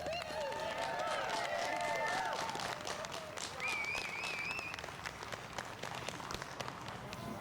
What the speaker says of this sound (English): let's give her another big Vernon Worldwide Rally applause, everyone